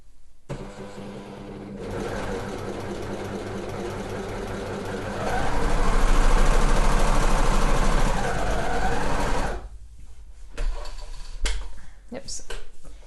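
An overlocker sews a sweatshirt seam with a continuous close whirring hum, swelling louder midway, then stops; handling noises and short speech follow at the end.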